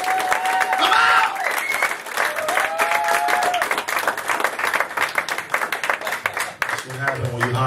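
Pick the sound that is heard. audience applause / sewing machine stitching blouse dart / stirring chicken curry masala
audience applause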